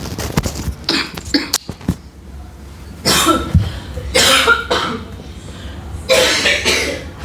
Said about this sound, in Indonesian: Batuk pemirsa.